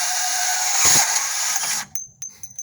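A Milwaukee 2529-20 M12 Fuel brushless compact cordless band saw cuts with a steady high-pitched whine for about two seconds, then spins down and stops, leaving a few faint clicks and brief restarts.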